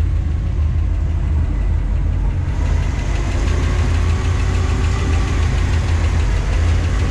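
A 331 cubic inch V8 with a single carburetor in a 1956 Dodge C3-R8 two-ton flatbed truck idles steadily up close with the choke partly on, a low, lumpy rumble with a faint rhythmic knock, continuous and loud throughout with no talking.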